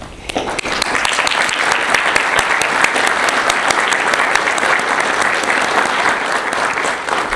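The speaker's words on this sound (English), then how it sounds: "can you please stand so we can give you a round of applause?" A graduation audience for youth services officers applauds the standing instructors, a dense, sustained wash of clapping that swells in quickly and holds steady and loud for several seconds.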